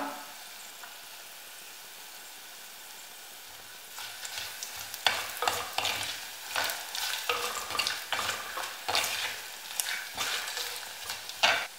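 Onions sautéing in a pan with turmeric and fenugreek powder for Kerala moru curry: a quiet steady sizzle at first, then rhythmic scraping stirs over crackling frying, close by, with no talk.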